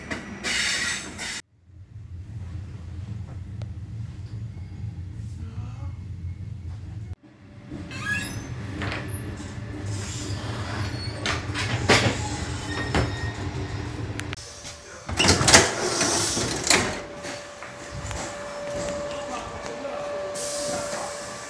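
Trains at a railway station on the Italy–France line near Monaco: a loud rumbling pass with clattering wagons, hissing brakes and high wheel squeals, broken by brief quieter gaps.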